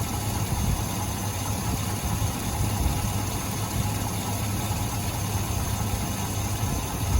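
A truck engine idles roughly and shakes, close to stalling, as a steady, dense low rumble under a constant wash of mechanical noise.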